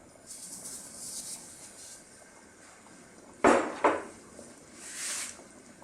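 A spoon knocks and scrapes against a cooking pot while ginataang mais, corn in coconut milk, is stirred, with two sharp metallic clanks close together followed by softer scraping amid quiet background hiss.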